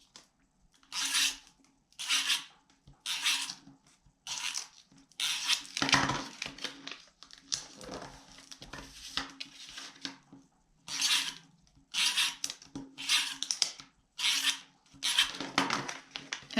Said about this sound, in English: I'm going to use my tape runner, get that stuck.